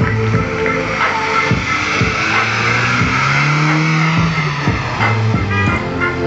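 A monster truck turning in an arena at a show in Årjäng, its engine revving hard in repeated surges with rising and falling pitch, loud and close, with crowd and arena noise mixed in.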